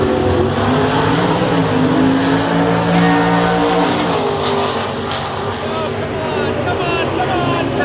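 A maroon drag racing car launches down the strip, its loud engine roaring and rising steadily in pitch for several seconds, loud and near, with crowd noise and voices mixed in.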